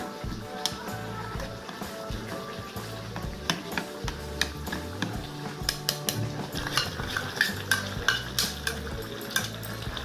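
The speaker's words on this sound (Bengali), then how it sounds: "এবার এটাকে জল দিয়ে গুলে" Spoon stirring tomato ketchup and sauce into water in a bowl, with steady light scraping and clinking against the vessel under a musical background, close and moderately quiet.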